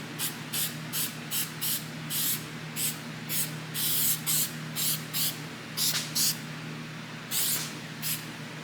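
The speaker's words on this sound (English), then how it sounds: "Yeah, it seems like this is a more softer spray than this stuff was." A trigger spray bottle of tire dressing gives around twenty short, sharp spritzes in irregular bursts, close and crisp over a low steady background hum.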